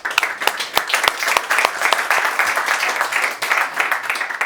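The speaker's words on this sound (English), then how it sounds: "my colleagues, Felix, Maria and Alexandra, a big round of applause." Audience applause for colleagues at a conference presentation, close and loud with distinct sharp individual claps standing out from a sustained crowd clatter.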